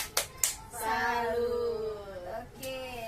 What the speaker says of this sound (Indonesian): Kita tepuk salut dulu ya ibu-ibu biar semangat